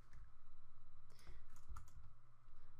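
Rapid clicking of typing on a computer keyboard, a steady run of close key presses with brief pauses while coding a Bukkit plugin, no talk over it.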